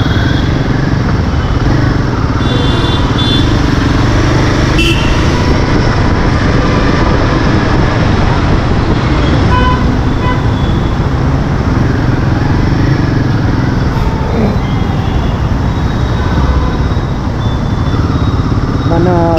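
A motorcycle rides along a road with a loud, continuous engine drone and heavy wind rumble that stay steady and close throughout.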